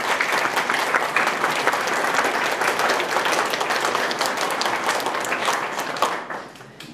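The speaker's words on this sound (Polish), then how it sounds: "Brawa dla mnie" A hall audience at a Polish Christmas carol and nativity play showcase bursts into dense, loud applause. The clapping holds steady for about six seconds, then quickly fades away.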